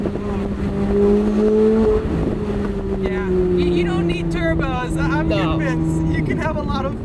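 A Chevrolet C8 Corvette Z06 with a naturally aspirated engine drones loudly in a steady exhaust tone, then climbs through rising revs with rapid downshift blips and crackles, while people talk over it.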